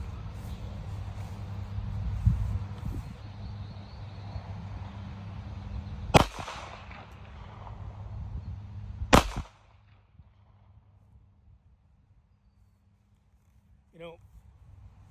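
A Ruger LCP .380 pocket pistol fires at a 5-yard target: two sharp, loud cracks a few seconds apart, each with a short ringing tail, over background murmur and talk, then near silence.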